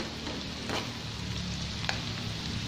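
Ground meat sizzles steadily in a pan for a kangkong and tofu dish with oyster sauce, a dense continuous frying hiss with a couple of faint stirring clicks and no talking.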